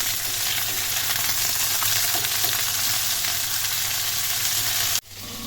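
Lazy chops fry in a pan with a loud, dense, continuous sizzle heard up close, cut off abruptly near the end and then resuming more faintly.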